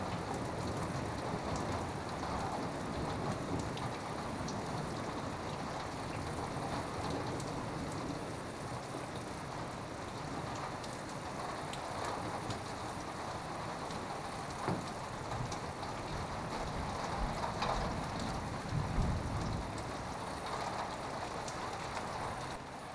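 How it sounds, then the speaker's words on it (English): Steady rain falls throughout, a dense continuous hiss with no clear thunderclap, recorded outdoors and close, without speech. "Holy fuck, that's thunder,"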